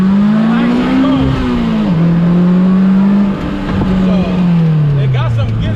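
A 2020 Polaris Slingshot Autodrive accelerates hard with a loud, close engine drone that climbs in pitch, dips at a shift, then climbs and falls again.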